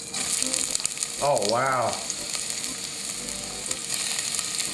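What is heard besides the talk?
onions sizzling in hot olive oil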